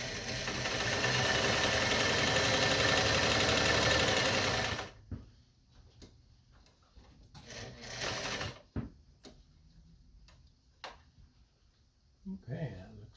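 A Singer 185J sewing machine runs steadily for about five seconds as it stitches regular fabric at a medium stitch length. Scattered clicks and handling sounds follow once the needle stops.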